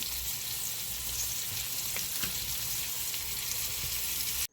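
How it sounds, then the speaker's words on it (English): Browned oxtails and vegetables fry in a pan with a constant, close sizzle and a couple of faint stirring knocks, stopping abruptly at the end. "So here are the browned oxtails, and here are the vegetables."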